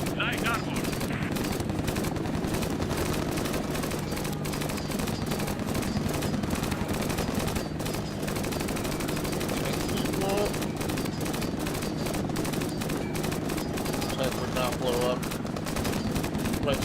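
Rapid machine-gun fire from an aircraft in a shooter game rattles nearly nonstop in dense, loud bursts, with a low engine drone beneath and someone talking over it.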